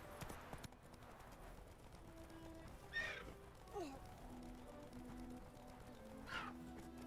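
Roach, a horse in The Witcher 3, snorts and whinnies several times at mid distance. Steady hoof clip-clops run underneath, beside tonal music and game ambience.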